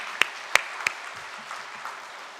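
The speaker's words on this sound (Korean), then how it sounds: "우리 서로를 위해서 박수 한번 하겠습니다." A Korean church congregation claps together during a Sunday morning service, a soft, steady patter of many hands punctuated by three sharp nearby claps at the start.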